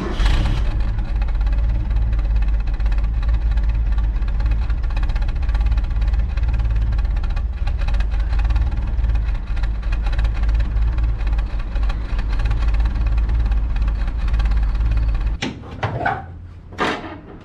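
Proton Iswara engine idling roughly on a cold start with a stuttering misfire, a loud, steady low drone close by that cuts off near the end, leaving a few brief knocks.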